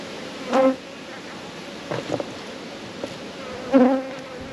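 Honeybees buzz around an open beehive during an inspection, with a few close buzzes passing by over a faint background hum and no talk.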